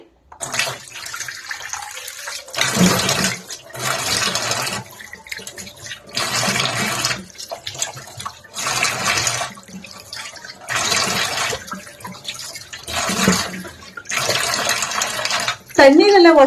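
Water splashing in repeated bursts as a face is rinsed at a sink after a homemade face pack for pigmentation, about eight loud splashing spells separated by short pauses.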